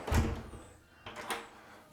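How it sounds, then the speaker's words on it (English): A refitted door with a new bottom seal swings open and shut in two soft, brief movements, a muffled thud followed by a lighter scraping sweep, faint and close in a quiet room. "let's test the door now"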